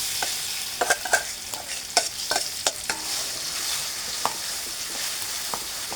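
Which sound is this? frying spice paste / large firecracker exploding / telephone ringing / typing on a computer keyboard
frying spice paste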